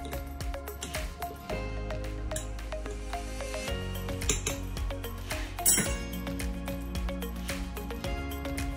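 A pot of boiling fish sour soup clinks and clatters as fish and shrimp are added, with metal utensils knocking against the pot in irregular, fairly close strikes and scrapes.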